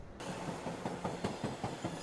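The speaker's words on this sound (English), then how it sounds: "The train from Hanoi rumbles north" A train from Hanoi rumbles north along the rails with a low continuous roll and a regular clickety-clack of wheels over rail joints, fairly close and steady.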